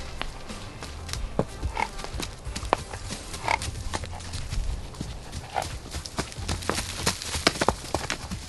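Horses grazing and walking on grass make soft scattered hoof thuds, tearing and chewing sounds close by in a quiet outdoor setting, with faint ambient noise between the irregular bursts.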